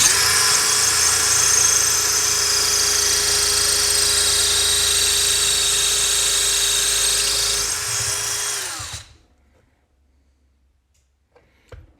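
Electric drill spinning a larger bit at higher speed, a loud steady whine held for about nine seconds before it cuts off and winds down, leaving near silence.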